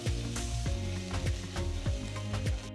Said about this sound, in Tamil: எண்ணெய் சூடானதும் 1 டேபிள் ஸ்பூன் பொடியாக நறுக்கின பூண்டு, 1 டேபிள் ஸ்பூன் பொடியாக நறுக்கின இஞ்சி சேர்த்து கலந்து விடுங்க.